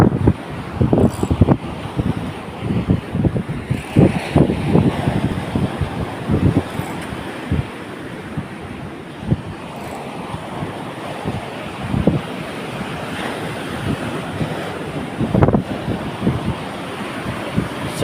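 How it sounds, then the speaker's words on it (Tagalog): Strong wind gusts buffet the microphone on a rough, wavy shore where someone is fishing, a continuous roaring rush with loud bursts and surf in the background. "Lakas talaga ng hangin mga lods."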